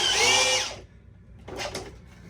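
A power drill drives screws into a wooden target stand with a loud whining burst that winds down, a short pause, then a brief second burst.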